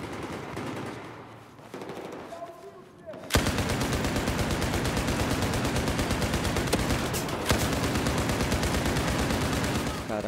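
Rapid automatic weapon fire in Battlefield 4, starting after a few quieter seconds of game sound, then a loud continuous stream of shots with brief bursts standing out.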